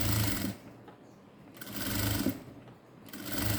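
A sewing machine stitching fabric, its motor whirring in two or three loud, close bursts separated by brief pauses.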